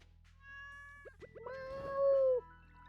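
A Stardew Valley cat lets out a few clear, close meows that rise into one longer, drawn-out cry, over a low, steady game music drone.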